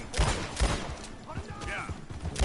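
A single gunshot fired at a lock in the Red Dead Redemption 2 video game, a sharp near crack standing out among a few quieter thumps, with game characters talking around it.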